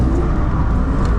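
A street-style BMW E46 drift car runs at Santa Pod, its engine a steady, loud, continuous drone heard from inside the car with no voices.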